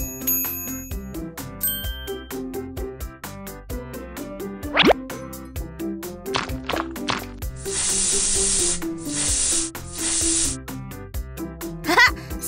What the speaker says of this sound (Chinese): 我们要先用口腔喷雾清除口臭。